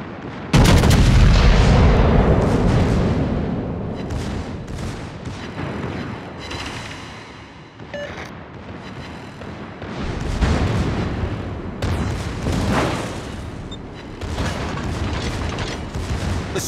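Secondary guns on a warship in World of Warships fire a loud opening blast, then keep up repeated booming shots and rumbling impacts that swell and fade across the stretch, with no voices.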